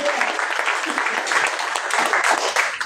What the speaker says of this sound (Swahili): Piga Yesu makofi mazuri.